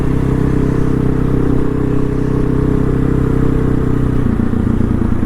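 A single-cylinder dirt bike, either a KTM 500 or a Honda XR650L, drones loudly and steadily at close range with a deep throbbing engine note that shifts slightly in pitch near the end.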